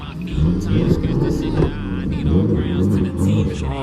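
A Hellcat car does a burnout at a legal pit event in Florida, its engine revving loud and sustained with a roaring, rumbling tone as people talk over it.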